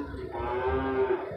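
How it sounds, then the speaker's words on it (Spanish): A cow at an animal market gives one long, loud, close moo lasting over a second, with faint background market noise. "Qué bonita vaca, miren, gente linda, belleza de vaca"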